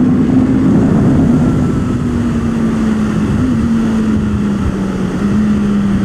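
Honda motorcycle pulling onto a race track, a steady engine drone holding one pitch and sagging slightly as it rides away, loud and continuous with no talk.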